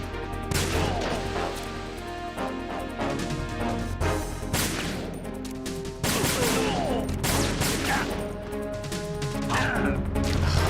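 Repeated gunshots in the stealth action game Metal Gear Solid 2, loud close cracks firing at an irregular pace over a dense bed of music and impacts, with crashes mixed in and no talk.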